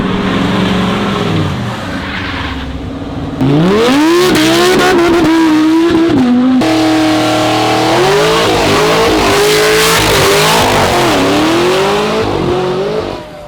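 An SUV does a burnout at a car meet in New York City. Its engine roars loud and close, revving repeatedly with pitch swinging up and down, and the sound surges sharply after a brief lull.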